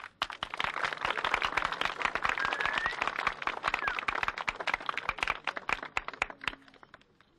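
A strongman competition audience claps for an athlete with dense, crisp, continuous applause made of many individual hand claps, fairly close and lasting several seconds before tapering off.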